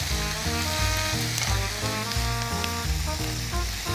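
Garlic stems and dried whitebait sheets stir-fried in a hot pan, a dense continuous sizzle and crackle with the rhythmic scrape of stirring running through it.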